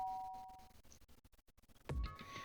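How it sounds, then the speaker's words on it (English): A doorbell chimes in the Danganronpa: Trigger Happy Havoc video game: a soft two-tone ding-dong, faint and brief, followed by a low thump and a short swell of sound. "did I hear the doorbell?"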